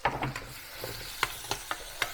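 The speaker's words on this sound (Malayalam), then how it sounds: "ആ ചൂടായ എണ്ണയിലേക്ക് കടുക് പൊട്ടിക്കഴിഞ്ഞ് കൊണ്ട് നമ്മൾ സവോള ഇടുന്നു" Sliced onion going into hot oil over popped mustard seeds in a clay pot for Kerala prawn theeyal, stirred with a spoon in scattered scraping clicks over a faint sizzle, close by with no talk.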